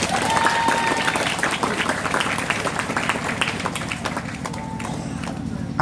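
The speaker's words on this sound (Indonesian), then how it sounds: "Orang mau tepuk tangan" Audience applause at an IPNU-IPPNU youth organization branch conference, a steady wash of many hands clapping throughout, with talk mixed in underneath.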